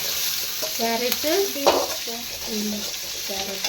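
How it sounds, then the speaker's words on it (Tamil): Carrots and beans sautéing in oil for egg rice, a steady hiss with stirring and spoon clatter against the pan, up close while a voice talks faintly underneath. "எண்ணெயிலே அது நல்லா வதங்கிடும்"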